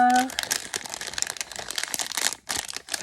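A Tsum Tsum Series 1 blind bag is opened with small scissors. Crisp plastic packaging crinkles and rustles in quick, uneven bursts, with a short pause near the end.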